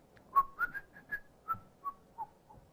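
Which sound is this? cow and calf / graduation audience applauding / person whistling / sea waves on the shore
person whistling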